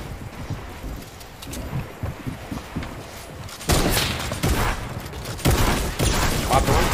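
Fortnite gunfire comes in rapid, noisy bursts that grow louder and denser in the second half, with breathy wind-like noise between volleys.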